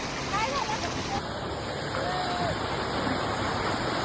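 Sea waves on a Konkan beach give a steady, broad wash of surf that fills the whole stretch at a moderate distance, with no breaks.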